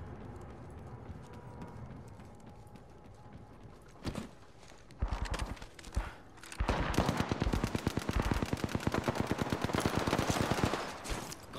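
Rapid gunfire in Apex Legends, starting with a few scattered shots, then a short burst and a sustained loud stream of fast automatic fire lasting several seconds, close and dominant.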